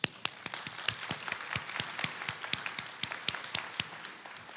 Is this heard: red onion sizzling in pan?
no